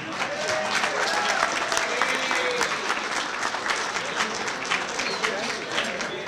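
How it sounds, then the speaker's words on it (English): Guests at a Vineland High School football banquet clap for the lettered freshmen, a loud, close, continuous round of many hands with faint voices and murmurs mixed in beneath it. "Let's clap it up for them."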